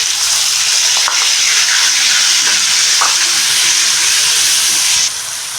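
Ground shallot paste hits hot oil already seasoned with fennel and mustard seeds, giving a loud, continuous close-up sizzle and hiss with a few faint stirring clicks, ending slightly quieter.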